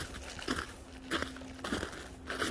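Boots crunching through snow on an uphill hike, a few slow, heavy steps spaced about half a second apart, close and fairly quiet with a steady faint hum underneath.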